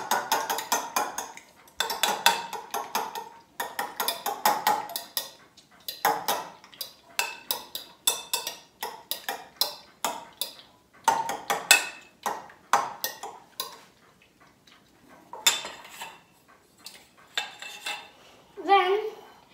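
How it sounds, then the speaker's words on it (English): Eggs whisked in a bowl for hot cross bun dough, a quick rhythmic clatter of metal against the bowl in close bursts with short pauses, loud and alone. "Lightly whisk your eggs together."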